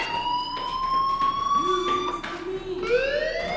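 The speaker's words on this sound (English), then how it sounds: "do you hear that fire alarm? That means you should be outside." A school fire alarm rings in Life is Strange, a loud electronic wailing tone that rises and falls in pitch across the scene.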